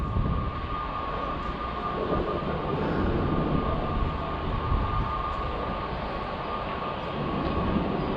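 A Washington metro train rumbles steadily on the rails between Silver Spring, Maryland and NoMa-Gallaudet, a loud continuous low roar with a faint steady whine running throughout.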